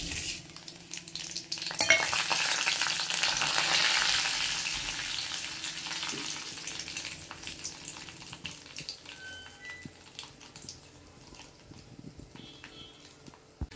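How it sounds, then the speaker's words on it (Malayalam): Mustard seeds sizzle and pop in hot oil in a pan for South Indian tempering, a loud frying hiss swelling early then settling with scattered crackles, close and alone. "ഇപ്പോൾ കടുക് പൊട്ടി തുടങ്ങി."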